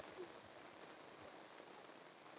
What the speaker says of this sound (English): It's very loud, the rain, you can hear that.